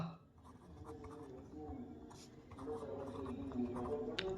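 Pen or chalk writing during a maths lesson, faint scratchy strokes in short irregular bursts under a soft background murmur, with no clear talking.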